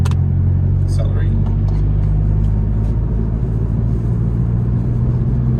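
A turbocharged Mazdaspeed3 pulls in fourth gear with a loud, steady low engine drone heard from inside the cabin, while people talk over it.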